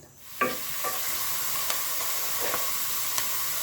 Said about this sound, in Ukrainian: тушимо цибулю до ледь-ледь золотистого кольору